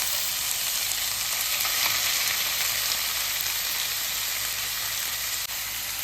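Marinated chicken sizzles steadily in a pan of golden-browned garlic, a continuous close frying hiss with faint stirring, loud and unbroken with no voices.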